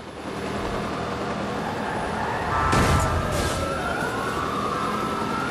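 A police car siren in the video game Watch Dogs 2 wails over steady background noise, rising and falling in long sweeping tones, with a brief louder burst partway through.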